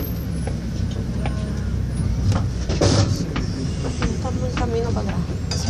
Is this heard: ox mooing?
no